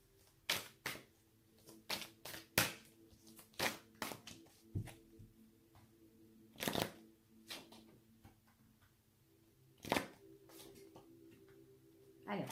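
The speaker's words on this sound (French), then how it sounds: "je dispose des cartes et puis je vous dis" Tarot cards being shuffled and laid out, with sharp, irregular snaps and flicks of cards up close, spaced by quiet gaps.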